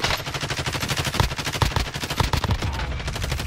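Rapid automatic gunfire in a multiplayer shooter game, dense bursts of close, loud shots in quick rhythmic succession that run nearly continuously throughout.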